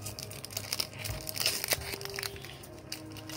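Pokemon Cosmic Eclipse card booster packs being unwrapped, with steady close crinkling and crackling of foil wrappers lasting a few seconds, a few sharper crackles in the middle, no talking.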